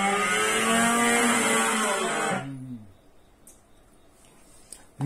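A car engine in the video game Gran Turismo 7 revs hard with a loud, buzzing harmonic whine that slides down in pitch and cuts off after about two and a half seconds, leaving near silence with a few faint clicks.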